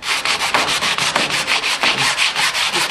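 Coarse 80-grit sandpaper rubs over fiberglass cloth on a sailboat hull, a close, steady scratchy rasp with quick back-and-forth strokes repeating at a brisk, even rhythm, no voices.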